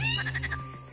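Frogs croak during the spring mating season in Yellowstone, a quick series of pulsed, rattling calls up close, alone and clear, over about a second.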